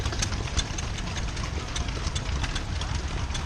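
A vintage stationary engine at a steam rally, running to power a water pump, gives a steady, close mechanical chugging with fine rapid ticks over a low rumble, continuous throughout and without talk.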